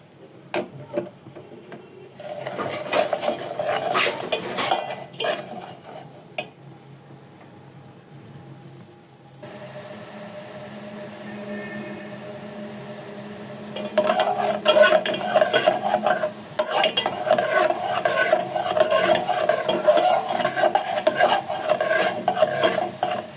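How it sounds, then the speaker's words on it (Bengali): Sugar being stirred and caramelized in a pan for pudding gives repeated scraping stir strokes with a soft sizzle, easing into a quieter stretch midway before busier stirring returns. "এখানে মৃদু আছে চিনি জাল করে নিচ্ছি"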